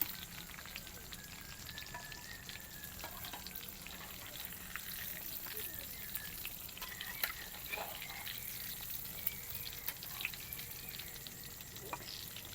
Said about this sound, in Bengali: এপিট ওপিট করে ভালো করে তেল দিয়ে দিয়ে ভাজতে হবে।